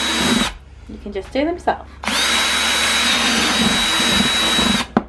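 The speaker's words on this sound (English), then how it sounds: "I'm just using a little metal drill bit" A power drill with a small metal bit bores drainage holes in a plastic plant pot, with a short burst, then a long loud steady whine after brief talking.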